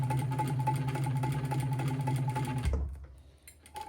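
Domestic sewing machine running steadily while top stitching two rows along a fabric edge, a close, even motor whir that stops abruptly near the end, leaving quiet room noise.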